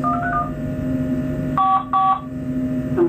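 Keypad tones from a train cab radio, a short melodic beep followed by two clear dual-tone bursts and a faint final tone, over a steady low cab hum.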